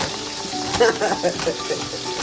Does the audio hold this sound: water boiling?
yes